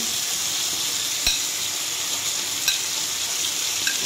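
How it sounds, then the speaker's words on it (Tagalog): Marinade sauce and cooked onion hit a hot frying pan with chicken steak, giving a steady loud sizzle and hiss close up, with a couple of faint scrape clicks and no talking. "Ngayon, ilagay na natin yung marinated sauce."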